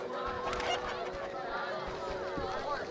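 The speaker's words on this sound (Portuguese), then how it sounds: "Uma galinha." A chicken clucks and honks in The Witcher game, several short calls scattered over a steady ambient game backdrop with a faint low hum and murmuring voices.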